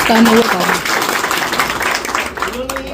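Audience applause at a creators' honour event in Balrampur and Siddharth Nagar, a dense, steady wash of clapping lasting throughout, with voices talking over it.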